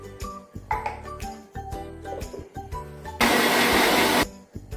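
A kitchen mixer grinder blends pani puri water of tamarind, black salt and water, a loud steady whirring burst of about a second that follows some clinking and handling of the jar.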